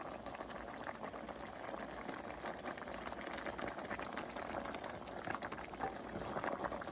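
A pot of Southern turnip greens simmers on the stove, a steady faint bubbling and hiss that carries on unbroken, heard alone without voices.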